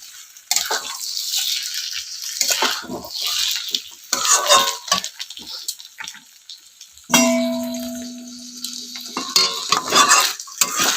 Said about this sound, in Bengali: চালের সাথে পটল আর মশলা ভালো করে কষিয়ে নেব।